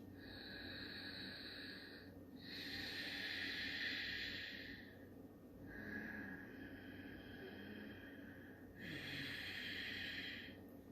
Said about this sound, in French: tu vas intégrer la respiration de Darth Vader, ok? Comme dans Star Wars. Vous savez, ça fait comme un bruit de la gorge.